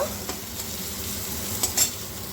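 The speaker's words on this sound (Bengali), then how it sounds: "একটু নাড়াচাড়া করে ভেজে নেব" Chopped onion frying in oil over a cumin tempering, stirred in a pan: a continuous close sizzle with soft scraping strokes and a couple of light utensil clicks.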